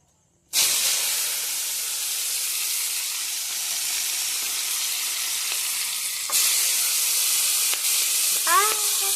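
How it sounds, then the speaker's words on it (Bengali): Potatoes sizzle steadily in hot oil in a wok, a loud continuous frying hiss that starts abruptly and grows slightly louder partway through, with brief scraping stirs. "এই যে ভাজা হচ্ছে, তো একটু হালকা লাল লাল করে ভেজে নেব"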